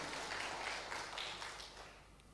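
Members of a Jakarta church congregation at a Sunday worship service give a round of applause, heard as a faint, distant wash of clapping that slowly fades away.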